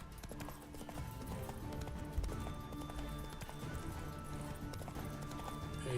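Horse hooves clip-clop steadily in The Witcher video game, a continuous rhythmic trotting at moderate volume with a brief whinny-like sound, no talking over it.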